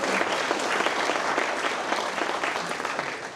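A roomful of people claps at an annual meeting, a sustained, even burst of applause that carries on for several seconds without fading.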